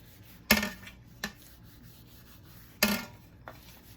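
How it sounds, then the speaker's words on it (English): Polish being rubbed onto a rusty stainless steel charger plate: a few sharp brushing swipes and scrapes with quiet gaps between them, close up and with no talking. "Just rub it all over the charger plate."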